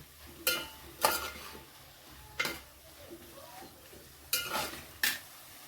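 A spatula stirs and sautés grated radish vegetable in a pan, giving five or six sharp, distinct scraping strokes at uneven intervals over a quiet background.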